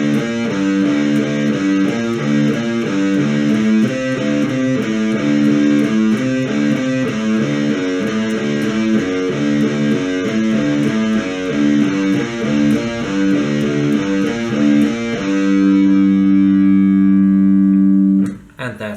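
Distorted electric guitar plays the intro riff of a song, a fast repeating note pattern that settles into a held, ringing chord before cutting off abruptly.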